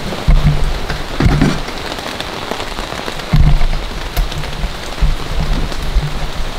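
Steady rain patters on a surface during outdoor camping in front of a house, a dense hiss with several louder heavy drops or knocks that stand out close by.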